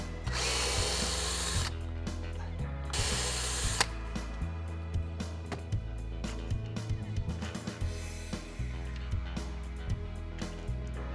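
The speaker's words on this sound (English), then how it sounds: "By removing the 4 screws" A power drill backs out the four screws of a fifth-wheel holder on an MGI Navigator quad gyro scooter, its whirring in several short bursts over steady background music.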